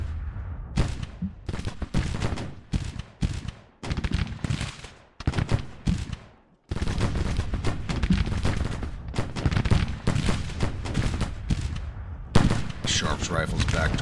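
Sharps rifles and artillery firing in the Civil War strategy game Grand Tactician, dense volleys of rifle shots cracking in rapid irregular bursts with heavier booms mixed in, loud and continuous apart from a brief lull midway.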